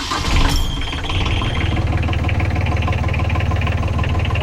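A boat's diesel engine, glow-plug preheated, catches with a brief loud burst and then settles into a steady, close, rhythmic idle that carries on evenly without any talk.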